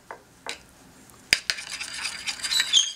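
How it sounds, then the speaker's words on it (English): A spoon mixes no-salt seasonings, chopped parsley and fresh ground pepper into a tahini lemon sauce in a bowl, giving a few close clinks followed by a steady scraping stir. "Then we're going to give this a mix."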